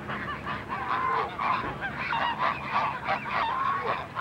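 A flock of ducks being fed in Idaho Falls honks and calls continuously, overlapping squawks close by with no pauses.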